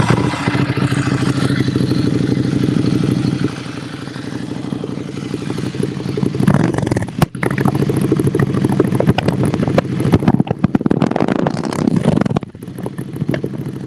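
A Ducati motorcycle engine runs loud and close, its exhaust throbbing in a steady idle with blips and rough pulses, wind buffeting the mic.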